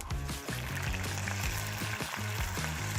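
Cumin seeds and chickpeas fry in hot oil, a dense, continuous close-up sizzle with crackling splatter running steadily throughout.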